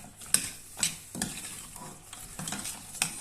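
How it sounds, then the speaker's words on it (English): A spoon stirs a sticky chocolate fridge cake mixture in a bowl, a close series of scraping, squelching strokes in an uneven rhythm. "give that a good stir"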